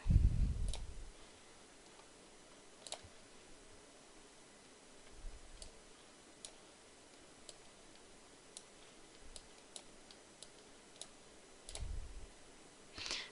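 Computer mouse clicks, a scattered run of sharp, faint single clicks spread across a quiet room with low background hiss and a few soft bumps, with no talking.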